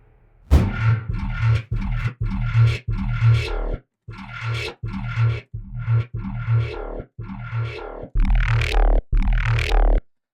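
A series of short, heavily distorted synth stabs repeat in quick succession, each trailing into a washy reverb tail, loud and without voices.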